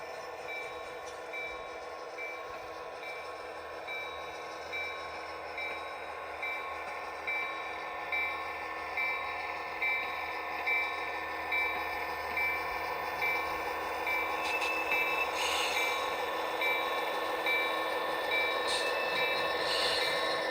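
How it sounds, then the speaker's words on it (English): A small train hums and clicks steadily along its track, the rhythmic rail clatter building slightly louder over time, with no voices. "Let's run some trains."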